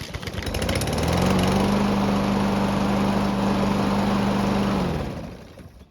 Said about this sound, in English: it started with no issues after getting close to full temperature